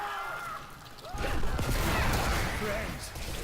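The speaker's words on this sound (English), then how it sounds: "Corpse explosion for the win. One explosion makes another." The Corpse Explosion spell cast by a female Necromancer in Diablo 3 sets off a rapid chain of loud, crackling bursts and booms that roll into a dense rumble, with game voices and effects around it.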